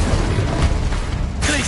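A fire spell from Hogwarts Legacy, the video game, crackles in a dense, steady rush of noise with a few soft bursts, followed by a brighter hiss near the end.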